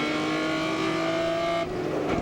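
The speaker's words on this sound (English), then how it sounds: "not one of the V8s, as you can tell by the engine note as you listen. That's one of the inline 6s" BMW M3 GTR E46 race car with an inline-six engine racing at Sebring, a loud, steady, high-pitched howl held at high revs, then a slight change in tone as the car passes.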